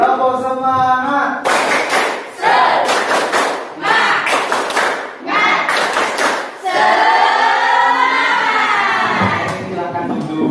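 A class claps out the rhythmic 'tepuk semangat' spirit clap in several loud, patterned bursts with brief pauses between them, followed by a stretch of crowd voices.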